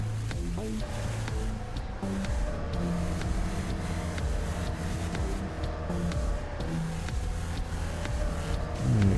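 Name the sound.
car driving in a video game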